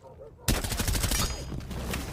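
Gunfire in Rainbow Six Siege, played in a South Korea League match, bursts in as rapid automatic shots right after a brief quiet moment and keeps rattling loudly, with a commentator's voice underneath.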